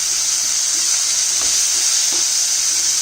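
Onion fries in a pan with a steady, loud sizzling hiss, joined by a few faint stirring clicks and scrapes and no talking.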